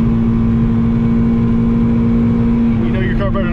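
A Chevy Beretta GTZ coupe engine drones steadily under hard driving, a loud sustained hum inside the car with a faint voice near the end.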